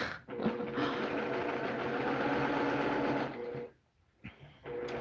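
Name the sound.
Brother domestic sewing machine running, free motion quilting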